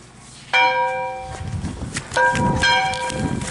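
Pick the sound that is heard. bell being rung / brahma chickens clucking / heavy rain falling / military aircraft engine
bell being rung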